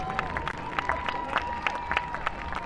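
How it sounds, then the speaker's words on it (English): A crowd at the Clacton Airshow 2025 applauds the RAF Red Arrows synchro pair, producing a steady wash of distant clapping and cheering with a few sharper claps, while a faint steady tone runs underneath. "a massive round of applause"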